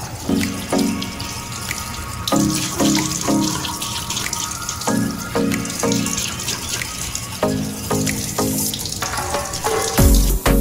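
Running tap water splashes in a sink during a morning face wash, a steady close stream broken by repeated bursts of splashing as water hits hands and face.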